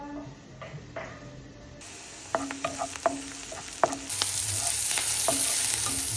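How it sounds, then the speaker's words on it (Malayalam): Jackfruit being stirred into curry in a pan, with sizzling from hot oil and a run of scraping, clinking spoon strokes against the pan, close and fairly loud, the sizzle building steadily toward the end. "ചക്കയും കൂടെ അതിലിട്ട് ഇപ്പൊ ജസ്റ്റ് ഒന്ന് മിക്സ് ചെയ്യാണ്"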